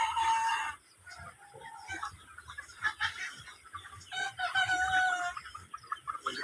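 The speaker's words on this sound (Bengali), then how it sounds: "এই যে এখানে আছে অনেকগুলো মুরগি" A flock of chickens clucks and squawks close by on a farm, with overlapping busy calls and a rooster crowing in bursts throughout.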